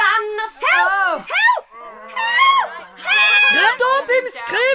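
Child screaming in a dramatized audio production, shrill rising and falling cries mixed with several other excited, shouting voices, loud and close throughout.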